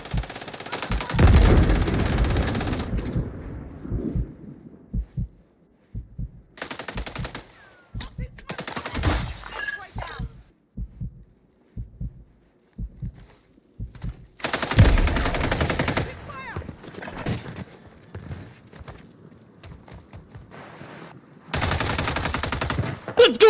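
Bursts of rapid automatic gunfire and scattered shots from a battle royale video game, loud and repeated in several clusters with quieter gaps, with some talk around them.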